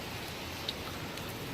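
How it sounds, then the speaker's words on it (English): Steady rain pours down around a porch beside a flooded street, a continuous soft hiss of falling water with no speech over it. "It's raining. It's a good rain."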